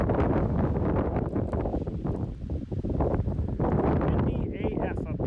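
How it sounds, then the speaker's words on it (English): Strong wind on a mountain summit buffets the microphone in loud, continuous roaring gusts, with a voice speaking faintly underneath. "Windy AF up here."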